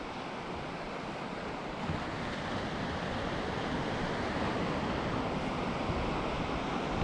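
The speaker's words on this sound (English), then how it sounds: "Check it out, folks, the sound of those waves." North Sea surf on the wild coast at St Cyrus, Scotland: a continuous, loud, broadband roar of breaking waves and wash, steady throughout with some wind buffeting, no voices.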